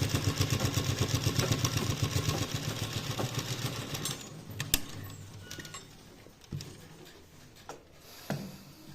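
A sewing machine runs in fast rhythmic bursts of stitching through skirt fabric, close and clear at first, then slowing into scattered clicks and short runs as the cloth is pulled and adjusted.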